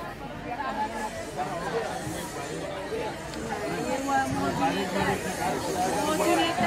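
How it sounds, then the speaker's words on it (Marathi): Busy crowd chatter fills a fish market where pomfret is being sold, a steady murmur of many overlapping voices that swells slightly toward the end. "आता गर्दी वाढत चालली आहे"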